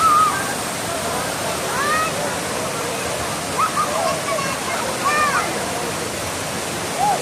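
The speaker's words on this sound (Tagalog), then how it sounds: "Ang ganda ng falls guys." Balagbag Falls in Infanta, Quezon pours with a steady, broad rush of falling water, with faint chatter and voices mixed in.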